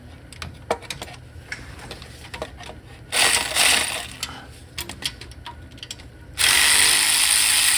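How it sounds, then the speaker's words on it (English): A hand ratchet clicks in quick bursts on a bolt holding the windage tray of a GM 5.3 V8 with low oil pressure, each burst a rapid run of pawl ticks, close and loud, with pauses in between. "I don't know why I always grab my manual ratchet when I have an electric one."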